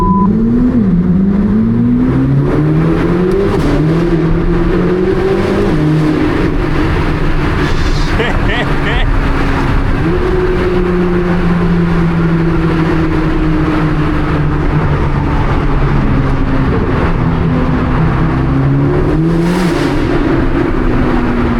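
A 1064 hp Corvette C8 ZR1 launches at night, engine revving hard and climbing through gears, rising and dropping in pitch over a constant loud road roar, with voices talking underneath.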